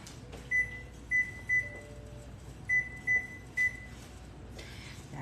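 A kitchen timer in a home kitchen beeps in two bursts of three short, high, evenly spaced tones. The beeps are clear and fairly close over a quiet room hum, with no talk.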